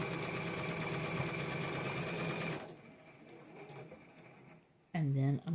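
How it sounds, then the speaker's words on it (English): A sewing machine runs steadily, joining two quilt pieces for a pinwheel nine-patch block, then stops and leaves faint clicks before a voice speaks near the end. "I'm going to sew those two together"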